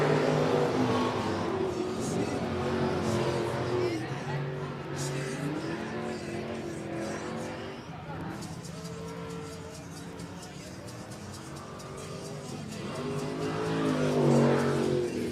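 Limited modified race cars racing at I-37 Speedway during a military appreciation night, engines droning and revving as they circle the track, with a public-address voice talking over them throughout.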